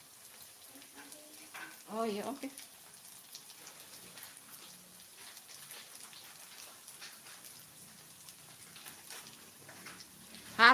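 Tempeh frying in oil gives a light, crackly sizzle under a home-kitchen cooking session. A short burst of louder activity comes early, and a brief casual remark is spoken over the steady frying.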